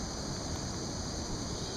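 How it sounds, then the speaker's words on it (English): A waterfall on the St. Joseph River at Mishawaka roars as a steady, faint broadband rush with no breaks, heard from a kayak upstream on the water. "We're here at the Mishawaka waterfall."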